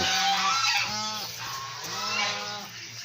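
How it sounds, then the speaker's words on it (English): Loud honking quacks from a group of birds close by, overlapping calls continuing steadily for a few seconds. "Ducks are happy. They got the pond outside."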